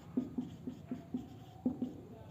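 Pen or marker strokes on a board or page during a Class 10 electricity lesson, a quick run of rhythmic scratching taps in close succession, fairly quiet with faint background room noise.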